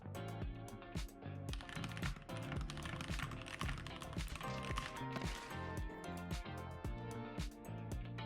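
Rapid typing on a computer keyboard fitted to deliver a shock on typos, with dense bursts of close, crisp key clicks and brief pauses throughout, no voices.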